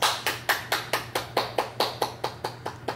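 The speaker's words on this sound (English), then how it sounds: "Are you clapping your hands?" A baby claps his hands in quick, even succession, about a dozen sharp, close slaps at a steady rhythm, alone without talk.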